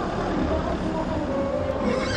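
A horse whinnies amid the bustle of a large horse fair, the neigh standing out over a busy outdoor background of crowd and hoof noise.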